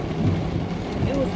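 Steady rain with a low rumble of thunder fills the background, a continuous wash of noise on a day of a family reunion, with faint tonal sounds passing through.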